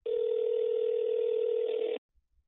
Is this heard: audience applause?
no